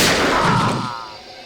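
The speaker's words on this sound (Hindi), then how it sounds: "चली चली चली गोली चली" A single loud gunshot in the video game GTA 6 hits hard and close, then trails off in a rolling, echoing decay over about a second.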